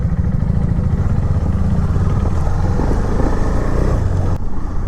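A KTM Duke 390 BS6 motorcycle rides along with a loud, steady engine and exhaust drone that holds close and constant throughout, with no talking.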